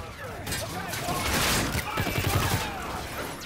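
Video-game gunfire: a dense fusillade of overlapping shots and impacts swelling to a peak mid-clip, with a player's voice talking over the shooting.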